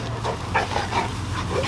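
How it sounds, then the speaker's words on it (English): A pair of farm dogs, a three-year-old St. Bernard and a puppy almost a year old, whimper and pant close by in a brief, breathy burst of small vocal sounds. "And they're good farm dogs."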